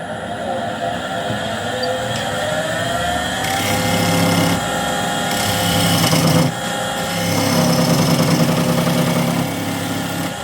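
A half-inch bowl gouge cuts a spinning cherry wood box blank on a lathe, a loud continuous rough shaving and rumbling hum with the pitch shifting as the tool engages.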